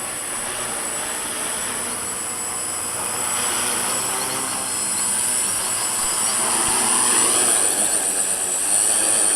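A Walkera QR X800 drone flies in gusty wind, its motors giving a steady, airy whir over wind noise. The sound holds constant and slowly swells louder through the stretch, with no talking.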